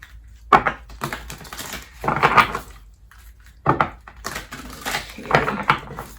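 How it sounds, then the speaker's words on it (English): A deck of cards shuffled by hand, soft papery slaps and riffles arriving in several separate bursts, close up over a faint steady background hum. "I want to do a little shuffle here."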